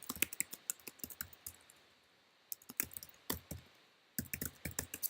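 Computer keyboard being typed on to enter commands, in quick bursts of crisp clicks separated by short pauses, close and clear.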